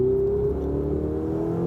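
A Ferrari 488 GTB 3.9-litre twin-turbo V8 engine runs at steady high revs, a continuous loud mechanical roar and whir with no pauses and no talking.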